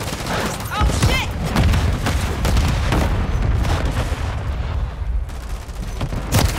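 Loud, dense combat din in Call of Duty: Modern Warfare III, with a grenade explosion among heavy gunfire and booms, continuous and close, under shouted voices.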